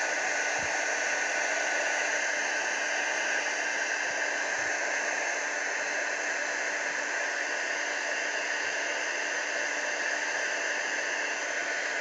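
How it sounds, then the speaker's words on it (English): A heat gun blows steadily to dry stamped Brusho paint, giving a constant, even roar with no breaks. A couple of faint knocks sit underneath it. "just grab my heat gun and just dry it off"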